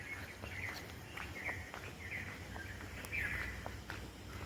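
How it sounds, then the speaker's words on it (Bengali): An Asian koel calls at dawn in a quiet village setting, with several faint, distant repeated call notes over low background hum and soft footsteps. "কোকিলের ডাক"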